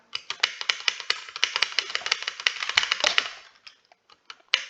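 Rapid, dense clattering of a computer keyboard being typed on, loud and close for about three seconds, then slowing to a few scattered key taps during a Stumble Guys gaming session.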